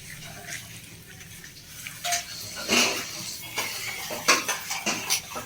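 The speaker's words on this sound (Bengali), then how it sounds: "তেল দিয়েছি, আদা বাটা দিলাম, তেজপাতা। এটা ভালো করে এখন নাড়াচাড়া করে নিই।" Pointed gourd with ginger paste and bay leaf stirred in hot oil in a pan, giving scattered scraping and clinking utensil strokes that grow more frequent, over a faint background hiss.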